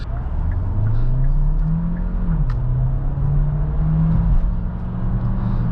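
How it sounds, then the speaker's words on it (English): A 2024 Kia Sorento PHEV SX Prestige plug-in hybrid powertrain drones from inside the cabin, a steady low engine hum with wavering pitch and a slightly rough, uneven tone, loud and without speech. "if you can hear, it's not the smoothest powertrain on the planet"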